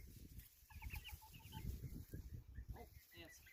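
Small hens cluck in short, repeated bursts, with a larger hen and a white one nearby on a farm while they peck at ants. Someone talks over the clucking throughout.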